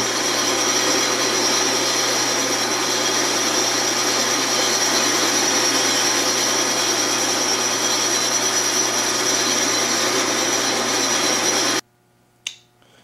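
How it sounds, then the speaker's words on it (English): A power drill boring holes with cutting fluid, a loud continuous whine and grind that holds steady for about twelve seconds, then stops abruptly, followed by a couple of faint clicks. "now I have the 4 holes drilled"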